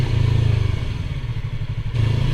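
Motorcycle engine on a winter ride through Chicago streets, a steady low rumbling drone with pulsing throb, loud and close throughout, with wind noise and no talking.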